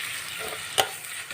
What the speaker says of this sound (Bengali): রসুন বাটাটাকে দিয়ে ভালো করে আগে একটু ভেজে নেব